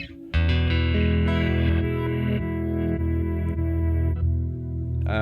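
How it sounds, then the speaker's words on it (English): An Old Blood Noise Endeavors Parting delay, reverb and glitch pedal with modulation processes a sustained guitar chord, loud and close, swelling into shimmering, warbling repeats with glitchy echoes before a new strum at the end. "This is the Parting, which is a delay reverb glitchy kind of thing with some modulation thrown in there too."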